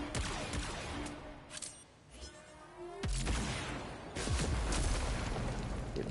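Gunfire in the Warframe video game shatters a sparkling chandelier hanging from the ceiling, heard as loud, dense bursts of shots and booms with crashing debris, a brief lull in the middle, then heavier blasts.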